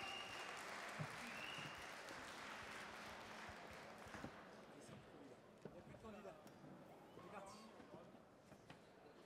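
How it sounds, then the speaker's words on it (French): Audience applause at a Cuisines en Scènes cooking competition for a candidate team, quiet and distant sustained clapping that fades after a few seconds, with voices talking underneath and continuing as it dies down. "Applaudissements."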